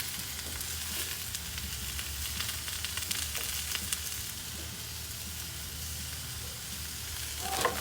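Vegetables sizzle on a 22-inch Blackstone griddle with a steady, close hiss and scattered crackles. A brief louder scrape or stir comes at the end, and no one speaks.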